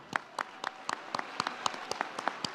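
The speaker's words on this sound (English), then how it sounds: "let's give them a round of applause." Sparse, distinct hand claps from a closing ceremony crowd in the United Nations General Assembly Hall, about a dozen sharp claps in an uneven rhythm, fairly close and quiet.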